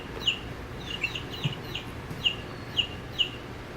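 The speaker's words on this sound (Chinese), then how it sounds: "好，这是小鸡的声音。" A chick-sound recording plays from a touch-activated children's sound book, a series of about eight short, high cheeping peeps in an uneven rhythm, fairly close and clear.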